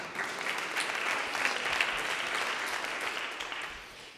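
Applause from the audience at a grassroots community forum on fair maps, a steady wash of clapping that holds evenly for several seconds before fading slightly at the end.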